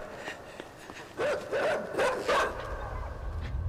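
A dog barks in the video game Inside, giving a few short, sharp barks in quick succession over a low ambient hum, fairly close and moderately loud.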